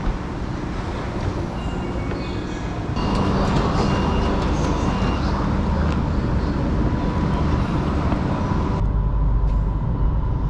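Steady loud rumble of a moving train in China with rattling carriages, growing louder partway through and briefly dropping near the end.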